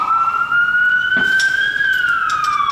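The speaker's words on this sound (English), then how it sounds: "let's wait for the siren to go away." An emergency vehicle siren passing outside, a loud clear wail that rises slightly and then falls away, heard alone.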